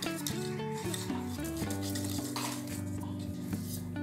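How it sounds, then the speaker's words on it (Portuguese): Cornstarch batter is stirred briskly in a bowl with repeated scraping, clinking strokes, fairly quiet beneath steady tonal background sound. "Você tem que mexer até que não sobre nenhum gruminho do amido de milho"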